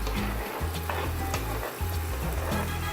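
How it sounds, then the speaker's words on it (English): Onions and celery sizzling in hot oil on a stovetop, a loud, dense continuous hiss with a steady low hum underneath, close up and uninterrupted. "So I'm adding some of my oil here, and we're gonna start adding our onions, some celery"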